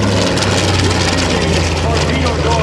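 TBM Avenger propeller aircraft making a parade pass at an air show, a loud dense roar of engine and propeller filling the whole clip close by.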